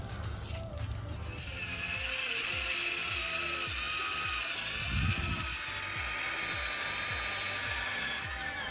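A power drill whirs steadily with a rhythmic mechanical ratcheting, drilling holes in wood, running continuously at close range.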